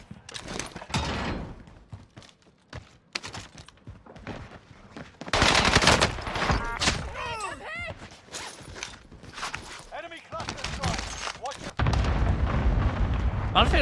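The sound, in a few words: airstrikes on Rebirth Island in Call of Duty video game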